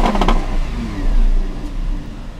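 The V10 engine of a 2016 Lamborghini Huracan LP610 revs briefly and loudly, then settles into a steady rumble, heard up close with no talking.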